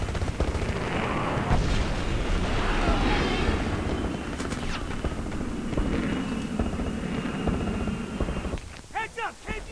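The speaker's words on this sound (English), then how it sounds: "Enemy airstrike incoming." Airstrike explosions in the Homefront multiplayer shooter, a dense, loud barrage of booms and gunfire rumbling continuously, with voices talking over the combat.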